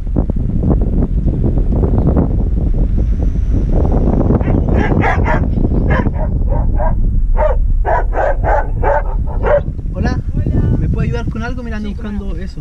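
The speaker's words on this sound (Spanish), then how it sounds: "la perra de la brújula" A female dog at a beachside shop barks several times amid strong wind noise on the microphone, with people talking loudly over and between the barks.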